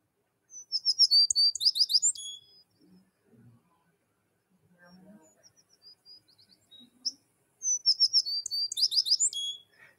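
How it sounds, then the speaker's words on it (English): A tree sparrow sings a sweet, descending song in two clear bursts, one at the start and one near the end, with faint low murmuring in the quiet gap between them. "here's the tree sparrow singing."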